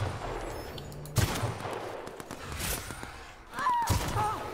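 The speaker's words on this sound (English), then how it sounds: "Right, good shooting, good shooting." Gunfire from The Outer Worlds comes as a few loud, sharp shots mixed with game sound effects over a steady background hum.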